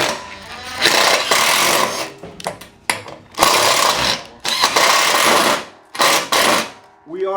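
A drill driving self-tapping screws into an aluminum beam during impact glass installation, several loud whirring bursts of a few seconds each separated by short pauses, with someone speaking between them.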